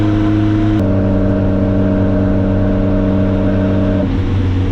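A freshly built Ford Crossflow race engine in a TVR holds a steady, loud, high-revving drone with strong harmonic tones through a new exhaust, shifting pitch slightly near the end; no voices.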